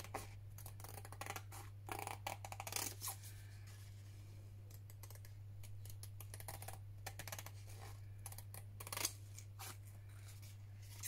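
Scissors trim around a paper napkin tag for a mason jar, with a steady run of close, crisp snips and paper rustling and no voices over it.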